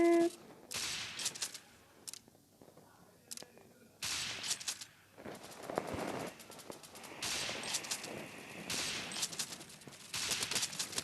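Bursts of automatic gunfire in a CS:GO-style online shooter game, rapid crackling volleys coming and going in several loud stretches, with brief quieter gaps between.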